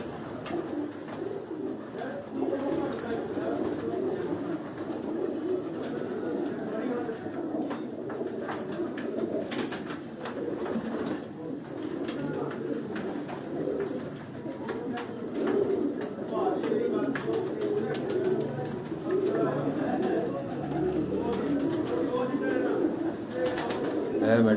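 Pigeons cooing in a loft of large birds kept by a pigeon fancier, a steady overlapping murmur of throaty coos close by, continuing throughout with people talking over it at times.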